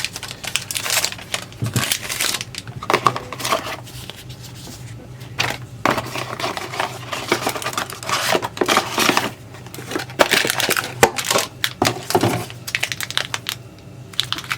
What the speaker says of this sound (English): So let's get this out from the packaging first.